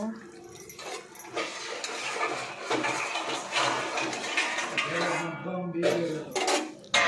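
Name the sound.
covering a paneer curry pan with a plate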